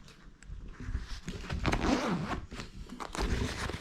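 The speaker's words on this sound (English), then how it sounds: "it's got a water resistant zip that does look very water" A water-resistant zip on the outer pocket of an Exped Lightning 60 litre backpack being pulled open, a close, rasping zipper run with several scraping strokes across a few seconds.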